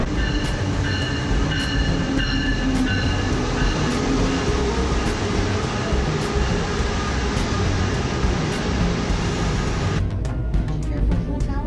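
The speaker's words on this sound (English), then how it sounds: "A train is coming." A loud, steady rumble and roar of a Brightline high-speed train arriving close by at a station, with rhythmic clacking, cutting off abruptly near the end.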